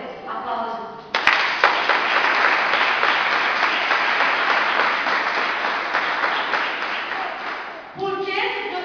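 Congregation at a church service bursts into sustained applause that stays loud and even for about seven seconds, with a sharp cheer at the onset, then breaks off as a voice resumes.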